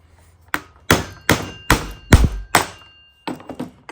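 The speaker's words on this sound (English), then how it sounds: "what I like to do is just tap down on that nut so it actually fits." A tool taps down on a nut while working on a Honda Navi mini motorbike, about eight sharp metallic thunks in an uneven rhythm, close and loud with short pauses between hits.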